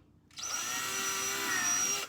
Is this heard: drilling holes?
yes